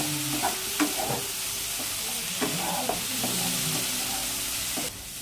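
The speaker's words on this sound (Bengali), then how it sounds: "কচুরলতিগুলোকে 3-4 মিনিট মতো ভালো করে ভেজে নেব।" Kochur loti (taro stolons) fry in a pan with a constant hissing sizzle, broken by soft clacks and scrapes as they are stirred, with no talk. The sizzle drops off slightly at the very end.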